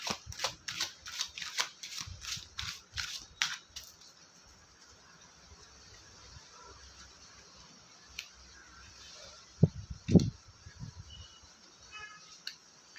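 Tarot cards are shuffled in a quick run of crisp riffling snaps for the first few seconds, followed by quieter handling and a couple of sharper taps near the end, with no talking.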